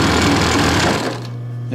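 A Pfaff sewing machine runs a straight stitch at its longest stitch length at full speed, giving a loud, steady, dense mechanical whir close by. The whir winds down into a lower hum near the end.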